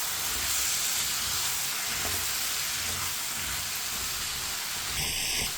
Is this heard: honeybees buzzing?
no